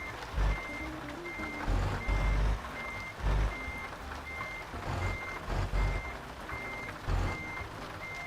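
A truck in Euro Truck Simulator 2 sounds its reversing alarm in a regular series of about nine evenly spaced beeps over a low, rumbling engine.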